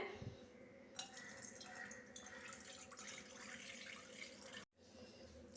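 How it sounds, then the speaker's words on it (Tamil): About 600 ml of water poured into a pot for halwa sugar syrup, a continuous splashing trickle close by that cuts off briefly near the end before resuming. "600 மில்லி நான் தண்ணி எடுத்து இதில் ஊற்றி வச்சுட்டேன்."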